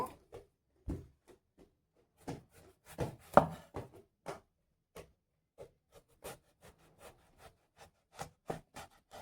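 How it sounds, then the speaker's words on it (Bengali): An eggplant (brinjal) being sliced into long pieces on a board for crispy begun pakoda fritters, heard as scattered soft knife cuts and rubbing scrapes with short pauses between them, close by and fairly quiet, with no talking. "তো বেগুনটা এবারে কেটে নেব।"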